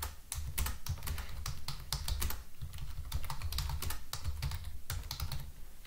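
Rapid, continuous typing on a computer keyboard fills the space with dense, close key clatter and only tiny breaks, and no voices can be heard.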